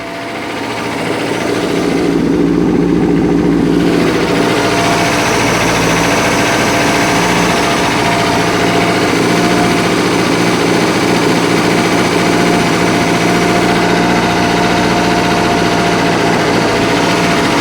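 A 120 hp Mercruiser engine in a 1968 Starcraft Islander barn-find boat runs steadily after starting, a loud, continuous rumble with a fairly even idle and no speech over it.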